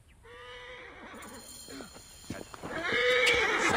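A mare whinnies loudly in Assassin's Creed Origins, a drawn-out neigh with harmonic wavering, then a second neigh swells near the end over hoof clatter and game background noise.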